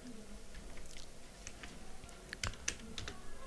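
Keys clatter on a computer keyboard while a profile title is typed, a quiet run of light irregular clicks with a few sharper taps near the end, over faint room noise.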